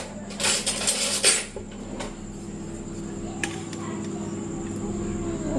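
A utensil clatters and scrapes against a pot of dal in a home kitchen, loud metallic knocks early on, then fainter single taps over a low background hum.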